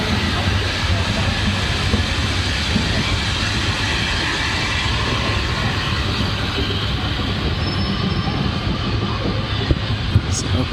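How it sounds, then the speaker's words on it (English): A steam train passes close by outdoors, a loud, steady rumbling roar with broad hiss that fills the whole stretch without letup. "It's a proper steam train."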